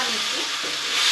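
Potatoes being stirred in hot oil with panch phoron and bay leaves, giving a steady, close, loud sizzle with a rustling scrape of stirring throughout.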